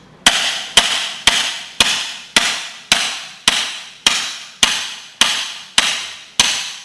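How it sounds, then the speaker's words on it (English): Steady series of eleven sharp, loud metallic strikes at an even rhythm, a metal pipe hitting the shins in conditioning practice, each impact ringing out and decaying before the next, with no talk. "use your pipe to condition and toughen your shins"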